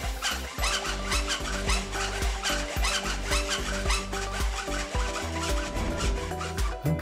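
Rapid, rhythmic rasping strokes of a saw cutting through a roller shutter slat sound close and steady throughout, with no talking.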